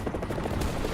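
A steady, dense burst of machine-gun fire comes from the tail gunners of A-26 bombers in a flight simulator game. The rattle is continuous and moderately loud for about a second, with no voices.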